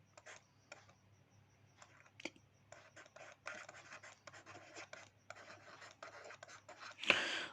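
Pen or pencil writing on paper during a biology lesson, a near, faint scratching that comes in short strokes and bursts with brief pauses, plus a louder rub near the end; no one speaks.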